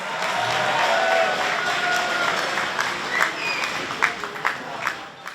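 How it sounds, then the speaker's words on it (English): Audience applause at a gala siyum celebration, a dense sustained wash of many hands clapping from a crowd, steady and moderately loud, thinning toward the end with a few distinct claps and faint voices. "let's give Nesanel Gantz a round of applause"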